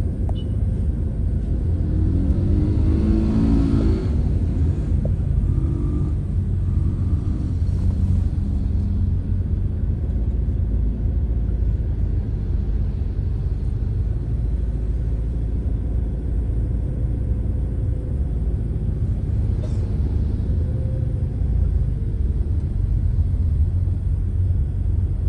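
Cabin road noise inside a Toyota Yaris Cross Hybrid on an ordinary road at about 30 km/h, a steady low rumble filling the whole stretch with faint brief thuds, no voices.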